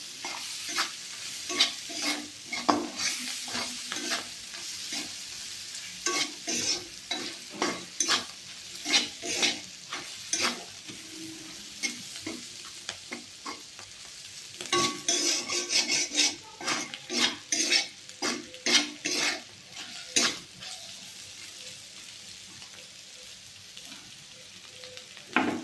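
Papaya frying in a pan for mung dal, with a soft sizzle underneath many irregular scrapes and clinks of a utensil stirring against the pan, close by and continuing in bursts.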